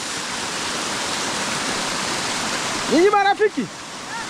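A waterfall near a village in Kundruma Forest, a loud, constant roar of falling water, with a voice briefly speaking over it near the end.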